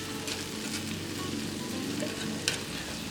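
Termite mushrooms frying in a pan for soup, a steady close sizzle with faint stirring scrapes and a brief knock of the utensil near the end, no speech.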